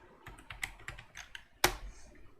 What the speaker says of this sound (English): let me type sudo apt get upgrade